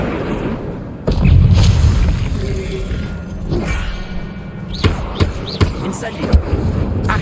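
A fire spell cast in Hogwarts Legacy on PS5, heard as a heavy boom-like burst followed by a rumbling roar, then several sharp magical impacts amid game effects and voices.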